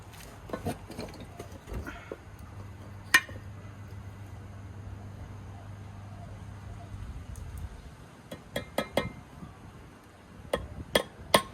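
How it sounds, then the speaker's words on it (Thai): Nails are hammered into a knife handle in a metal shop, sharp metallic taps in scattered clusters with quiet gaps and a low hum between them, fairly faint overall. "เดี๋ยวเราก็ ตอกตะปูย้ำเข้าไปอีกทีหนึ่ง"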